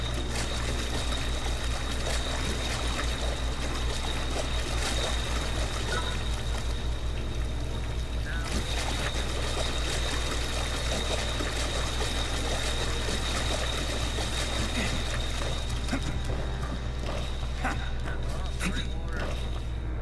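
Video game characters wade through water, a steady rushing, splashing wash that runs continuously and fairly loud over a low hum.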